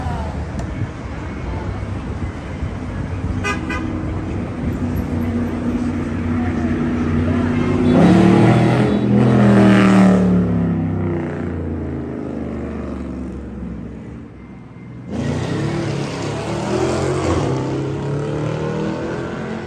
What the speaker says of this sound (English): Got people driving by.